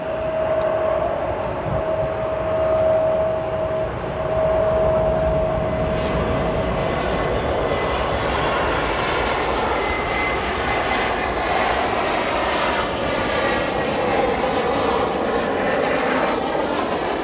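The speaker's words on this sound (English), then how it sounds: "Let's see how this Embraer does." An Embraer jet lands at O'Hare in a right quartering crosswind, its steady, loud engine roar holding throughout, with a whining tone early on that gives way to broad rumbling and rushing air.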